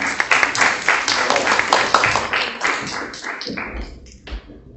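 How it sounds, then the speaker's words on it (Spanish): A burst of applause with dense, rapid clapping from a group, fairly close, tapering off near the end. "Medina, Geraldine Yalta y Lourdes Cárdenas, para quienes pido por favor un fuerte aplauso."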